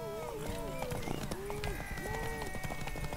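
Horse hooves clip-clop at a quick gallop in The Witcher 3, a rapid uneven patter of hoofbeats. Someone talks over the hooves.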